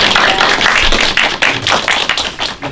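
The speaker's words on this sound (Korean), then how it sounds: "두 분 패널께 박수 한번 더 크게 부탁드리겠습니다" Audience applause for two panelists at the close of a humanities talk show episode, dense steady clapping sustained throughout with no speech over it.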